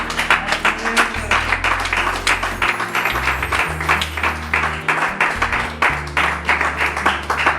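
A church congregation claps in steady rhythmic unison to acclaim the Lord, loud and close over a bass-heavy accompaniment of sustained low notes.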